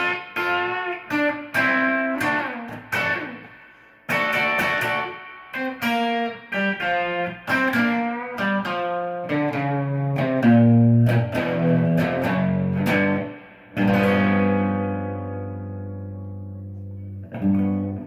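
Electric guitar playing a song-ending lick built on double stops: quick bright plucked notes and paired-string bends in a busy run, closing on a long ringing chord that fades out.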